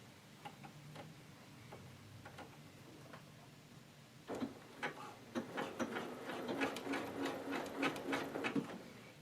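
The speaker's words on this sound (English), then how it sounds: "so that the machine will actually be stitching over in the same place more than once, kind of like back stitching" A sewing machine back-stitches while ruching a sleeve with elastic. It starts with a few slow, isolated needle ticks, then breaks into a steady, close, rapid stitching run with no talking.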